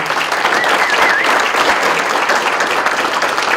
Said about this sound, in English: Let's all give a round of applause for Rachel.